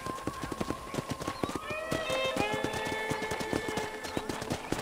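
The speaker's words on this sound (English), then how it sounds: "let's see if you can still ride a horse." A horse gallops in the video game Red Dead Redemption, its hooves beating a steady rapid clip-clop. Tonal game music plays underneath, and a brief whinny can be heard.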